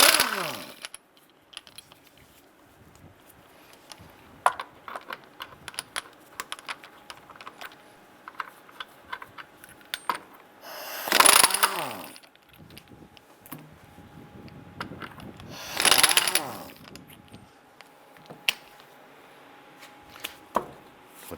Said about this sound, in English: Using our 7/8 socket, we're going to head loosen and remove our lug nuts.